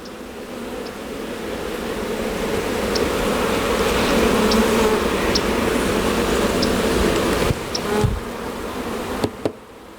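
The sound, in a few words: bees buzzing around hive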